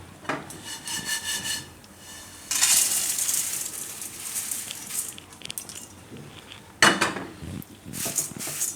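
Poha dry-roasting for a Gujarati chaat snack, stirred in a pan until crisp: close, continuous rustling and scraping with clinks of a spoon against the pan, intensifying in bursts, no talk.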